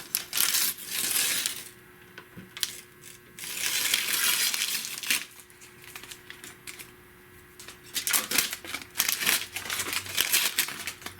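Masking tape ripped and peeled off a freshly painted car under the hood and around the trunk, loud close bursts of tearing and crinkling paper in irregular stretches, with short sharp snaps between quieter gaps.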